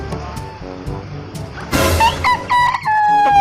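A rooster crows loudly at close range, with a chicken clucking beforehand amid faint rustling background sounds.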